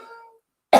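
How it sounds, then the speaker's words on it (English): A single sharp cough bursts out near the end, after a faint trailing voice and a moment of silence. "About to cough."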